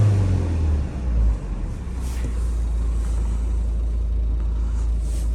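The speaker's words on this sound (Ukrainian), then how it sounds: "Турбіна на холостих працює добре." A 2012 Volvo V50 1.6 diesel engine idles with a low, even rumble after a brief shift in pitch near the start, with a faint turbo whine above it.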